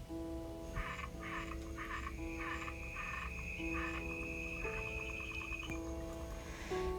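Several frogs croak continuously in a rhythmic chorus, layered over steady insect-like tones and a dense nighttime ambience, with no talking.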